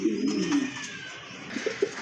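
A pair of King pigeons coos in low, rolling throaty calls that swell and fade, with faint chirps and brief bright notes near the end.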